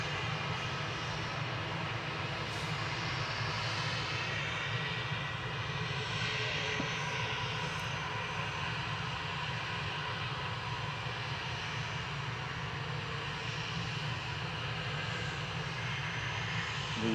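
A retro-liveried Aer Lingus airliner taxis at Manchester Airport, its jet engines giving a steady, distant whine and rumble that holds constant throughout with no talk.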